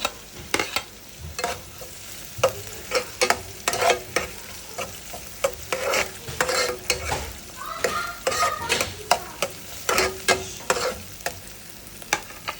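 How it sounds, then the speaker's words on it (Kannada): Chopped garlic frying in a pan for chicken pepper dry, a continuous sizzle under frequent, irregular clacks and scrapes of a spatula stirring close by, with no voices. "ಕಟ್ ಮಾಡಿರೋಂಥ ಬೆಳ್ಳುಳ್ಳಿ ಹಾಕಿ ಸ್ವಲ್ಪ ಫ್ರೈ ಮಾಡಿ"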